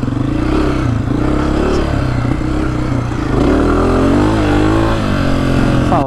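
A 2024 Honda CRF250F dirt bike engine revs loud and close on a hot desert ride, its throttle rising and falling continuously with a rough, buzzing tone.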